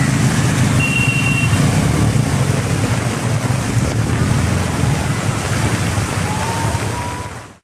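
Floodwater of the overflowing Deviyar river near Adimali in Devikulam taluk during heavy rain, a continuous loud rushing roar that fades out at the very end.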